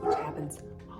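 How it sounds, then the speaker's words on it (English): A worried dog barks at people walking past a house, a few short barks and yips mixed in under a person talking close by. "He gets very worried about people walking by my house"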